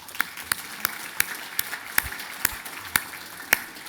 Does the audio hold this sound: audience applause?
yes